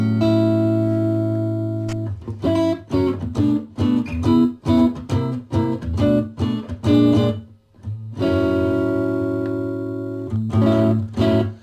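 An electric guitar plays through a small travel amplifier, sustained chords followed by rhythmic strummed stabs with a slightly driven tone.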